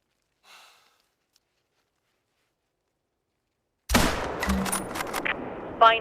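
A rifle shot fires in the hunting game theHunter: Call of the Wild at Parque Fernando, a sudden loud crack after near silence, followed by a rolling echo and game ambience; a faint breathy sound comes earlier.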